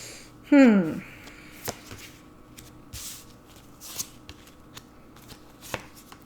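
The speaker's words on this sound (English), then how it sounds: "I'm just going to pull the cards and then I will let you know" Tarot cards shuffled in quick, close riffling bursts at the start, followed by scattered soft card flicks and taps, with a person talking intermittently over them.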